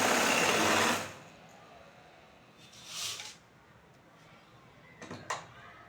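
A sewing machine stitches a chudithar bottom in a short, close, fast whirring burst at the start, then falls quiet apart from a couple of faint handling sounds.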